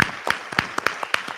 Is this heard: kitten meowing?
no